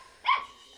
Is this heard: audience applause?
no